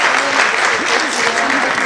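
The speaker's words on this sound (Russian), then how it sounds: "поэтому еще раз бурными аплодисментами Асият мы поблагодарим" Loud, dense applause fills a hall during an award segment of the City Day concert in Khasavyurt, a continuous roar of many hands clapping together, with faint voices beneath.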